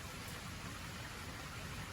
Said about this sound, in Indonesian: Alhamdulillah udah hujan lagi teman-teman.